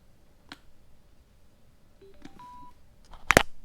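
A Harley-Davidson Sena 30K motorcycle headset powering on gives a few faint electronic beeps and short rising tones, followed by a sharp, loud clicking burst near the end, with no talking.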